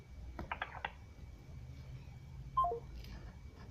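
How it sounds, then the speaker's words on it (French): A short series of telephone keypad tones beeps in quick succession, followed later by a few more faint tones and clicks in a quiet room. "je rappelle Joseph"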